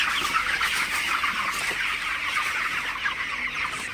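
A flock of broiler chickens on a farm clucks continuously and busily, close by, a dense overlapping chorus with no talking.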